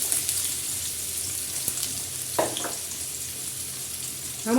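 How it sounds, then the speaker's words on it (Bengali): Chopped onion hits hot oil in a pan just after green chillies were fried for a grass pea greens dish, giving a steady broadband sizzle throughout with a few brief clinks and a louder splutter near the end, close up and free of talk. "তেলের ওপর দুটো পেঁয়াজ কুচি দিলাম।"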